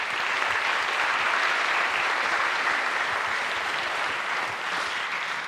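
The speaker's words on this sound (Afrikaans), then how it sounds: "So klap asseblief hande vir hulle." An audience claps steadily and loudly at a church event, sustained applause with no break, as thanks is given for donated coffee and tea.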